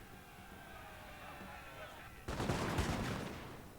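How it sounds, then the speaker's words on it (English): A massed musket volley from line infantry firing into fusiliers in Napoleon Total War, a sudden dense crackle of many shots breaking out over quiet battlefield ambience and fading slowly, with someone talking faintly underneath. "And they'll get a nice volley off into these Fusiliers."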